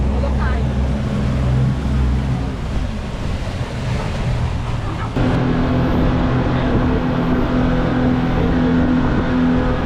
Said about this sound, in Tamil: கிளம்பிட்டாங்க, வண்டி எடுத்தாச்சு.